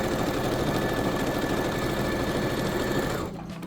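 Sewing machine stitching fabric in a home sewing session, a steady rapid mechanical whir and needle patter running loud and continuous before stopping abruptly near the end.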